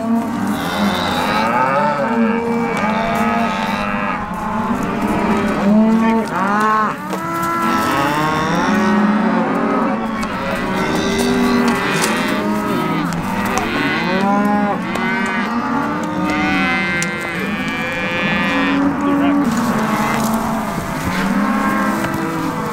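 Calves and cattle bellow and moo almost nonstop during branding on a Montana ranch, many overlapping calls from a nearby herd, loud and continuous.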